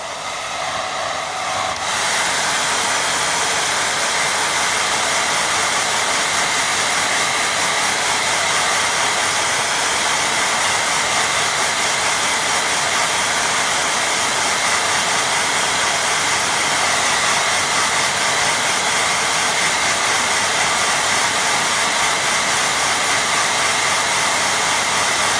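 A hair dryer switches on and blows steadily over a watercolour painting, a loud continuous whooshing hiss with a motor hum underneath. It runs unbroken and close for over twenty seconds.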